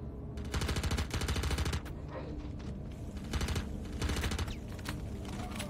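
Rapid automatic gunfire from a Star Citizen firefight, loud sustained bursts with brief gaps between volleys and a dense mechanical clatter under the shots.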